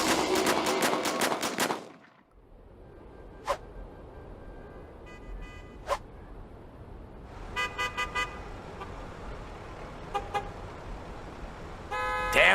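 Car horns honk in a cartoon traffic jam on the Golden Gate Bridge in San Francisco: a dense burst of layered blaring horns, then a pause, followed by scattered single toots and short rapid clusters of honks, loud and close.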